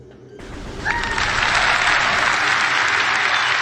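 A smart speaker plays a burst of loud recorded applause that kicks in abruptly, a dense wash of clapping and cheering that holds steady at full volume.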